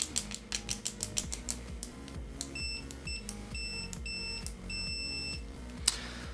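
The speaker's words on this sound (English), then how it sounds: "continuity test on the Ampprobe AM530 with the stock probes" Continuity beeps from an Amprobe AM530 multimeter with its stock probes, a short string of quick clicks giving way to steady high electronic tones that start and stop in a row of separate beeps, close up with a low hum underneath.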